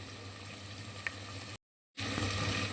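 Onion frying in a pan for millet bisibele bath, a steady close hiss of sizzling oil that cuts out briefly to silence before resuming.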